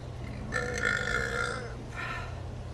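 A girl burps in one long, loud, drawn-out belch, followed by a shorter, softer second burp, over steady low background hum.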